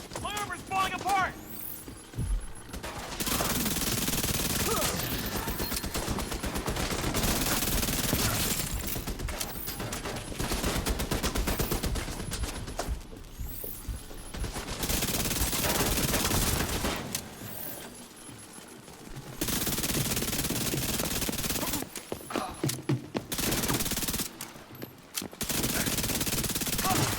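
Turret machine-gun fire in a shooter video game, long loud bursts of rapid automatic shots broken by short pauses, with game voices underneath.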